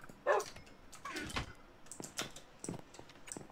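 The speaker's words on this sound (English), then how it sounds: "I just fed your dog" A Minecraft dog (wolf) gives short barks and whimpers in the video game, several brief yelps scattered over faint background noise and clicks.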